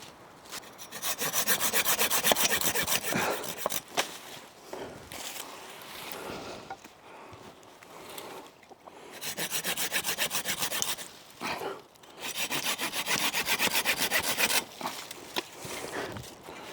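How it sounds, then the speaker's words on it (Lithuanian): A hand saw cuts through wood in an abandoned cellar in a forest while building a ladder, with close, rasping strokes in four long bursts separated by short pauses. "traukt pjūklą ir gamint kopėčius"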